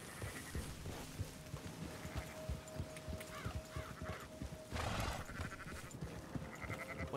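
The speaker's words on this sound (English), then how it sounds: "Go, sheep, go!" Sheep bleat and call repeatedly within Red Dead Redemption 2's herding scene, scattered animal cries over a busy game soundscape of hoofbeats and ambience, moderately quiet and without talking.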